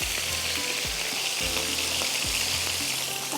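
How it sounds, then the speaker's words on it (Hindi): Kebabs fry in a pan with an even, steady sizzle and crackle, broken by soft periodic thumps as they are moved or turned. "बस ये कबाब फ्राई हो रहे हैं"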